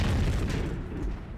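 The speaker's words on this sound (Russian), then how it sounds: "Делает один залп. И база взрывается." A base blowing up under a rocket volley in the video game Space Rangers, a single deep, rumbling blast that rolls on and fades over about a second and a half, loud and heavy with no voices over it.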